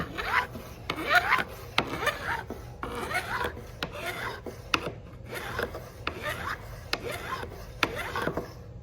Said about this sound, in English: It's a one-directional filing.